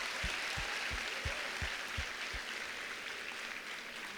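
A large audience at a talk in Bhavnagar claps in a dense, steady wash that hangs at an even level for several seconds, with a few low thumps near the start.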